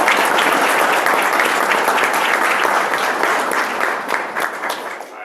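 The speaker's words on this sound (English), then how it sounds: "a round of applause, please" A tech meetup audience in New York applauds a panel of software engineers and a startup CEO, with loud, dense clapping that rolls steadily and then tapers off as it dies down.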